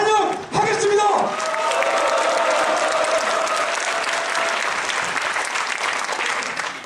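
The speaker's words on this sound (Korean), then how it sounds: "이렇게 전국에서 발표하신 동지들을 다시 한번 뜨거운 함성과 박수로 환영하겠습니다" A crowd of union activists at a national workers' conference breaks into sustained, dense applause and cheering. It swells after a brief voice at the start and stays loud and steady throughout.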